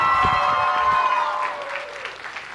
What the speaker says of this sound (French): un tonnerre d'applaudissements pour nos participants et Clara Ève à l'animation